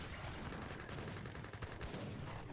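Gatling guns and heavy cannons fire in an Age of Empires 3 battle, a rapid scatter of faint crackling shots and thuds in quick succession, quiet and continuous without voices.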